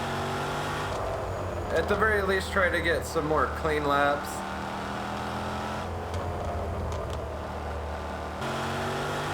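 A race car engine from Project Cars 2 on the Cadwell Park circuit drones steadily under a voice, rising into a few revving gear changes midway and settling back to a constant hum.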